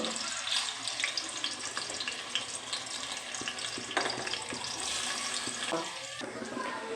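Raw banana pieces fry in a pan with a steady hiss and crackle, punctuated by occasional clinks and scrapes of a utensil turning them, quiet and close.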